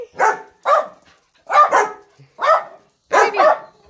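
Several dogs bark in short separate bursts, five or six sharp woofs spaced irregularly, close and fairly loud with near silence between them.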